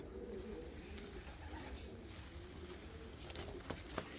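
Fancy and costume pigeons, black-winged and feather-footed with crests, coo softly in a coop, a low steady murmur with a few faint pats and rustles near the end.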